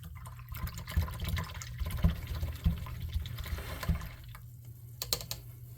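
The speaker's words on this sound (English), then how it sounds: "let's see if I can wash that brush out a little better" Light sloshing and dripping of water with small clinks as a paint brush is swished in a water cup, close and fairly quiet.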